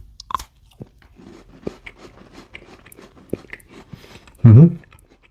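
A Thin Mint Girl Scout cookie, a chocolate wafer coated in chocolate, is bitten and chewed up close: scattered small crunches and mouth clicks, then one loud crisp snap near the end.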